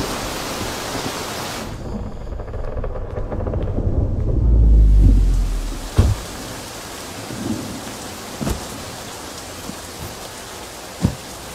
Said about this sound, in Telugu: వర్షం గట్టిగా పడుతుందా?